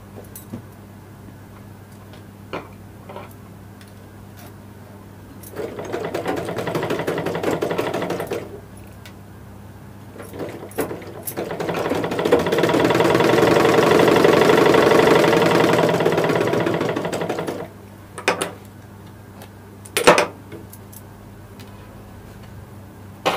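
Sewing machine stitching silk fabric with lining during tailoring, running in two longer rattling bursts with short clicks and pauses between them, close and fairly quiet.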